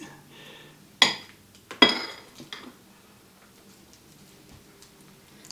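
A couple of sharp clinks of a utensil against a plate while Swiss steak and potatoes are served, with faint scraping between quiet moments and no talk.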